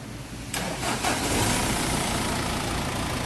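A Mazda B2500 engine cranks and catches at about half a second after repairs, then settles into a steady, loud idle that runs to the end.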